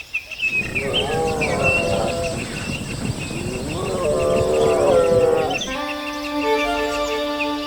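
Cape buffalo in the Serengeti bellowing in long, low, droning calls, two extended moaning bouts close by, followed by a steady tonal hum to the end.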